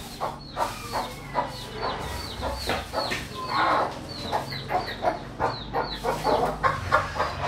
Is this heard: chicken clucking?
yes